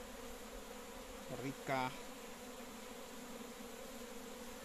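Honeybees buzz around a hive opened for inspection, its frames holding pollen and honey, a steady insect drone with a couple of brief louder swells as bees pass close; a voice speaks faintly.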